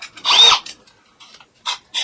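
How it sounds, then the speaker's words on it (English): Step drill bit boring through the sheet-metal side panel of a Renault Trafic van for a window install, heard as a loud grinding burst followed by a few short, separate bursts, close to the mic with no talk. "Step bit on a drill, just so I've got a starting point."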